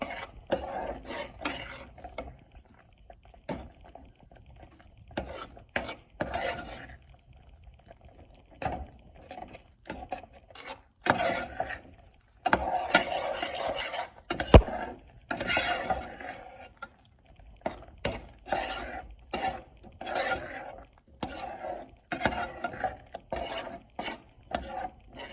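A thickening burrito filling is stirred in a pot, giving repeated scraping and rasping strokes in an uneven rhythm, close and moderately loud, with no talking.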